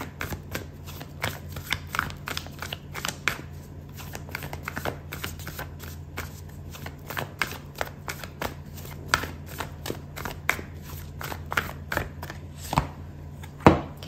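Oracle cards are shuffled during a tarot reading in a quiet room, a long run of close, crisp riffling clicks and soft slaps in an uneven rhythm, with no talking.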